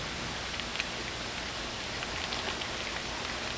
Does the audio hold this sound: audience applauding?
no